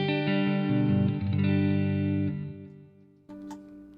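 Clean electric guitar tone through a Positive Grid Spark amp: sustained chords ring out and slowly decay, then a brief new strum enters near the end, played alone with no talk.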